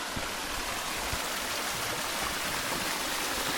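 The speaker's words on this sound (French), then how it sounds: "c'est bien ici, on est entouré des ruisseaux" Streams rushing through riverside woods make a steady, broad watery hiss that holds constant throughout, with no voices.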